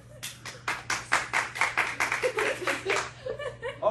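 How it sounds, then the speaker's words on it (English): Studio audience clapping at a game show family introduction, a rhythmic run of sharp, evenly spaced claps fairly close by, with light laughter mixed in and a steady low hum underneath. "Let's give them a round of applause."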